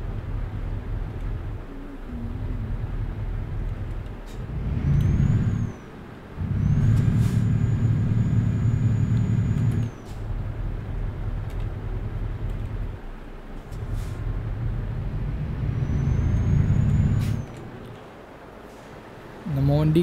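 Heavy truck engine rumbling as it pulls away in Euro Truck Simulator 2, a steady low drone with short gaps and faint hiss, loud and close throughout.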